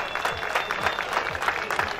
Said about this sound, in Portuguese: Uma salva de palmas aqui para o senhor jovem Ivo.